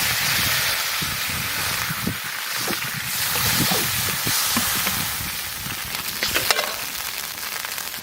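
Potatoes and taro greens sizzle steadily in hot oil in a pan at an outdoor pond-side village cooking spot, with occasional stirring scrapes over the constant close frying hiss.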